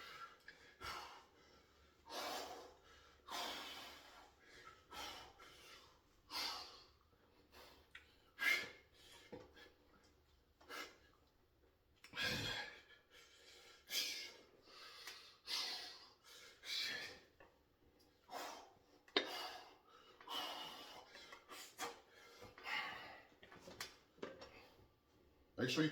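Heavy breathing during an at-home dumbbell chest and back workout: close, repeated sharp exhales and snorting breaths in an uneven rhythm, with someone talking between them.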